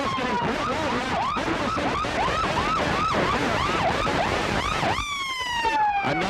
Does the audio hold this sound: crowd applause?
no